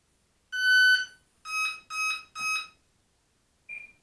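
Electronic speed controller of a Hobbyzone F4U Corsair RC plane gives programming tones: one long beep, three short beeps in quick succession, then a faint single blip after a pause.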